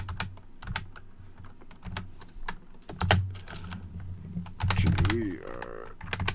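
Keys clack quickly and irregularly on a computer keyboard while someone enters baseball card data, the taps close and sharp with brief pauses, and a voice speaks briefly over them.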